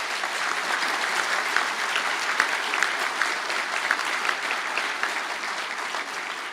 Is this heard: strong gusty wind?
no